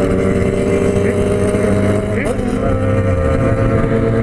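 A Yamaha MT09 and a Suzuki GSX-S750 motorcycle run close by with a steady engine drone, and one engine climbs in a brief rev about midway before settling back.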